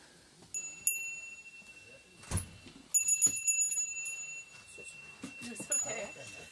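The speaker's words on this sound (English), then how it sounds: "just gonna ring this bell" A small bell dings a few times, bright metallic rings with short ringing tails, mixed with scattered thumps and faint background noise.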